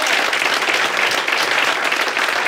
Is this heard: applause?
yes